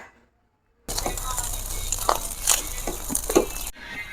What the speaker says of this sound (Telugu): కొంచెం బిర్యానీ రైస్ తీసుకొని వేసుకోవాలి కొంచెం కారం కొంచెం గరం మసాలా కొంచెం కొత్తిమీర వేసుకుని మొత్తం అంతా కలిసేలా టాస్ చేసుకోవాలి